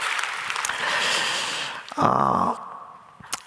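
A church congregation at a Sunday service gives a short round of applause, a dense half-second burst of clapping that follows a spoken prayer and then fades out.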